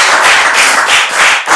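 Applause from a couples game show audience, a dense burst of many hands clapping together, loud and close, sustained for about a second and a half with no talk over it.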